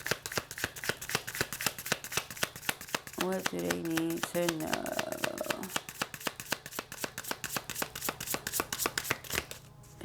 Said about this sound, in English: I'm gonna do one more shuffle.